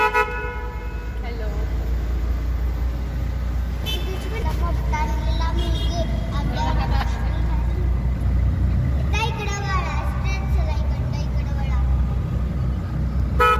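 A ride in an auto rickshaw through busy road traffic: a steady engine drone runs throughout while other vehicles' horns honk repeatedly nearby, with faint voices in the background.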